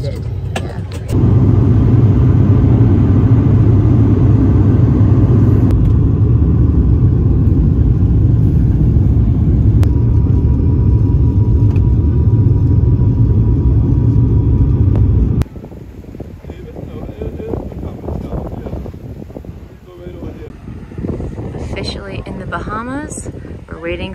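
Steady, loud engine drone from a small passenger plane waiting for takeoff on a flight from Fort Lauderdale to Freeport, Bahamas, heard from inside the cabin for about fifteen seconds. It then gives way to quieter rumble and movement noise.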